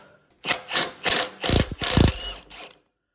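Bolts being backed out with a ratchet on a cheap riding mower being turned into a racing mower, freeing the transaxle: several short bursts of close mechanical ratcheting and clicking, with a couple of heavier clunks, and no talking.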